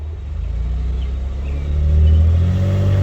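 A car engine idles with a loud low rumble, then swells as light throttle is applied, its pitch and volume rising steadily toward the end.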